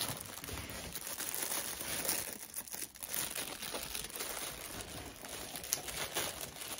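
Close, continuous crinkling and rustling of plastic packaging from an online shopping haul, with uneven crackles and a soft tearing texture.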